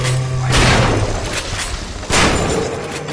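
Enemy gunfire in the video game Bioshock, loud rapid bursts of shots and booms, close and dense, in two main volleys.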